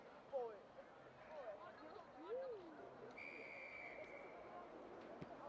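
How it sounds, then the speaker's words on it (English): A referee's whistle sounds at an under-18 girls' rugby sevens match between Romania and Turkey, a single sustained blast about a second long, heard at a distance over crowd noise and voices. "The whistle"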